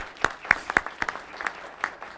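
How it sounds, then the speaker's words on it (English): Scattered applause from a small audience at a community college news conference, a handful of separate claps spaced out over about two seconds, fairly faint and alone. "I agree, that deserves applause"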